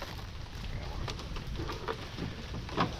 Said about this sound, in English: We out here in the rain, Bubba, getting it in.